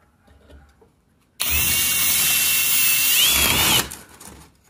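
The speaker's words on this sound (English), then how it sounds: "I'm going to go ahead and grab the drill" A power drill whirs loudly for a couple of seconds, biting into plastic while making a Honda speaker adapter, with a harsh grinding hiss, then stops, leaving quiet handling noises.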